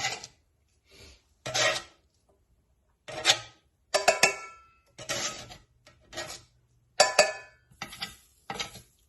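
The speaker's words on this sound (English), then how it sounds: "You want to try to get everything out of the bottom here because you don't want it to burn." A utensil scrapes across the bottom of a cast iron pan in short, separate bursts, close and loud, with brief quiet gaps between the strokes and no voices.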